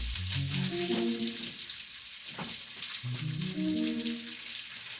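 Garlic sizzling in hot oil in a pot while making jambalaya, giving a steady close crackling hiss with soft spattering that continues throughout, with no voices over it.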